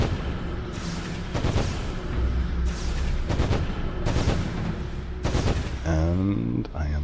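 Repeated bursts of video-game gunfire from Anarchy Online, loud volleys crashing in a dense, sustained barrage with a swelling electronic tone near the end.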